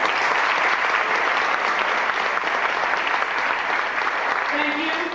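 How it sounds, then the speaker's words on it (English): An audience at an evening fireside chat gives a steady round of applause for a speaker, dense continuous clapping heard close and filling the whole stretch. "Please give her a quick round of applause."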